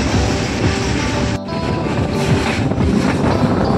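The Goa Sampark Kranti Express rolls along the Konkan Railway in monsoon weather, a loud continuous rumble of wheels and carriages with wind buffeting throughout.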